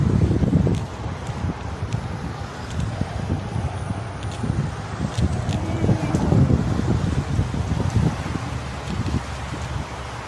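Steady outdoor wind at the seaside Corniche in Khobar blows and buffets the microphone, with rustling and faint background noise throughout.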